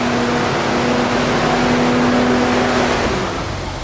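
An FJ60 Land Cruiser under restoration being driven, its engine a steady, loud, close drone with a constant low hum and rushing noise throughout, easing slightly at the end.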